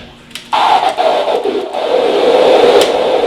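A DJ mixer's noise knob sweeps a hissing burst of filtered noise that swells in and trails off through an echo effect, loud and alone.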